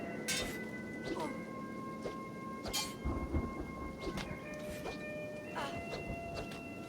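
Acid rain patters steadily in the game Kenshi, a faint hiss under scattered sharp crackles and low rumbles of thunder, with sustained musical tones drifting beneath.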